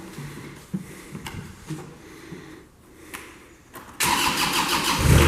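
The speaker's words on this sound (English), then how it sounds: "Hear that Kubota engine come to life." Kubota engine of a 2014 Moffett M55 truck-mounted forklift cranks with a few sputters and clicks, then catches and roars into a loud, steady run close by.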